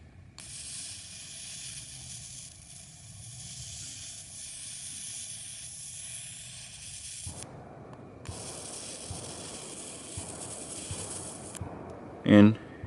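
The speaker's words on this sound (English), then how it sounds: "And it does a pretty good job at melting it." A plasma lighter arcs against the frayed ends of cut paracord, giving a steady electric hiss that cuts out briefly and resumes, ending with a short loud pop close by.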